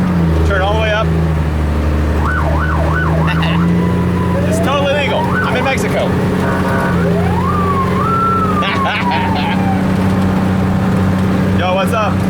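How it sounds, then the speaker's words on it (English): Wailing, rising-and-falling siren on a 5-ton military truck driving on a road, loud and continuous over a steady engine drone, with people shouting and talking over it. "Time to try the Siren on the road."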